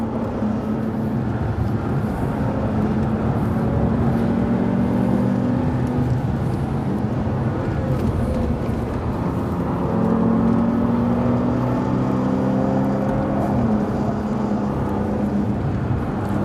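A Bentley Continental Supersports is driving hard, its engine drone steady and close, with tones rising and falling as it slows and pulls away again. No voices.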